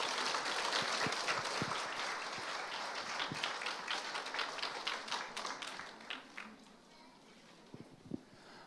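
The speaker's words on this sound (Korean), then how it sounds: "감사하다는 우리 의미로 박수로 우리 목사님 맞이하면 좋겠습니다." A church audience applauds to welcome a pastor, with dense clapping that fills the room, then thins and fades to a few scattered claps.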